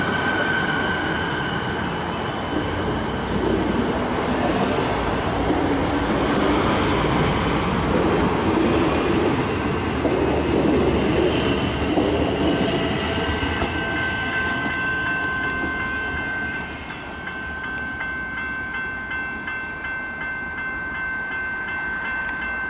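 Melbourne suburban train on the Frankston line at Aspendale station, a loud close rumble of wheels and carriages rolling along the rails with squealing tones, fading a little near the end as it moves away.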